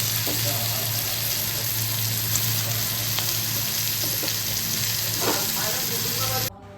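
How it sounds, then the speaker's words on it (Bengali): Bitter gourd (karela) with onion and chili fries in oil, making a loud, continuous sizzle with occasional utensil scrapes and a low steady hum. The sizzle drops away abruptly near the end. "এখন কেরালাটা ভাজি করা হবে। ফার্স্টে পেঁয়াজ মরিচটা দেওয়া হলো তেলের ভিতরে।"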